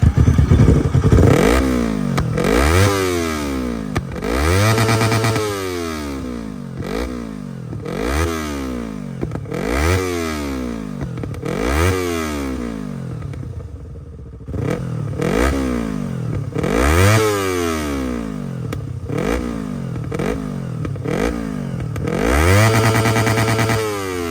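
A Yamaha MT-25 motorcycle engine revs repeatedly, each blip rising and falling in pitch with a rough, crackly exhaust, close by, with a brief lull midway.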